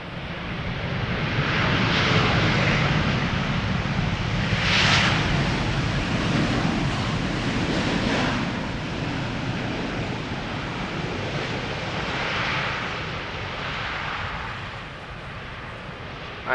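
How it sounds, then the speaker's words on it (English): A KLM Boeing 787-10 Dreamliner jet lands at Schiphol. Its roar stays loud and steady throughout, with broad swelling engine noise, some wind buffeting and no talk. "787-10 Dreamliner."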